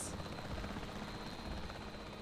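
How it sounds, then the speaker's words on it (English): Helicopter in the Jurassic World Evolution 3 dinosaur park game, a low, steady rotor drone at moderate level, continuous and unbroken, with a brief hiss at the very start and no talk. "They want me to fly a helicopter."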